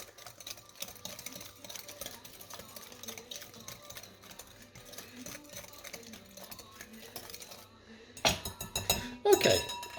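A whisk or spoon mixes sugar into egg yolks in a bowl, light rhythmic clinks and scrapes against the bowl, with a few louder rattles near the end; a person talks quietly underneath.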